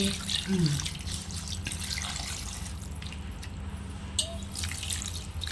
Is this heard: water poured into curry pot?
yes